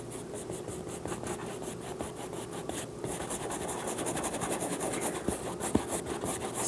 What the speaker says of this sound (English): scrub it right in there